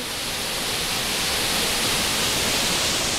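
A waterfall near Siantar Parapat, heard as a steady, loud wash of rushing water that stays even throughout and plays alone without voices.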